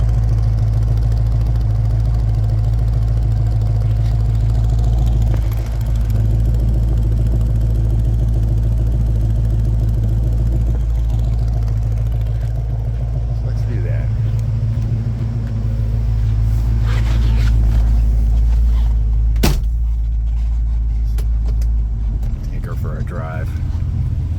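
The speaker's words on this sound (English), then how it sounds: "This trumpeted exhaust has such a unique sound." A 1966 Mustang GT with a trumpet exhaust idles with a deep, steady rumbling exhaust drone throughout, loud and close, with slight variations in the throb.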